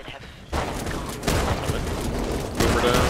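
Shotgun blasts in the zombie shooter Back 4 Blood, a few heavy booming shots spaced about a second apart over dense, noisy game action.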